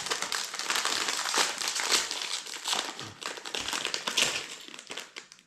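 A LEGO Disney 100 minifigure blind bag packet is torn open up close. Its plastic foil crinkles and crumples continuously for several seconds in quick, uneven bursts at a quiet level.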